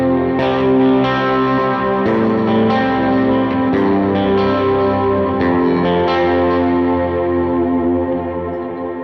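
Electric guitar played through a low end preset with modulated room reverb, strummed chords ringing with a wide, shimmering, chorused tone, loud and alone, each chord fading into the next.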